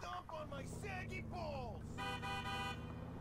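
In GTA IV, a car horn in the game honks in a sustained, steady blast near the end, with shorter toots and a rumbling engine before it, while someone talks over the game sound.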